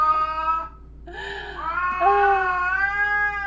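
A cat meows loudly and close, one short meow followed by a longer drawn-out, rising and wavering meow, nearly alone with only faint background hum.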